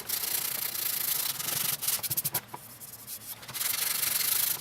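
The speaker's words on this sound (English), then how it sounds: "I'm trying to catch what I'm sanding the z-poxy out of there, off the top" Steady, abrasive sanding of epoxy grain filler off the wooden top of a Gibson Les Paul Studio guitar, continuous rasping strokes that briefly break into short rhythmic rubs midway before resuming, close and fairly loud.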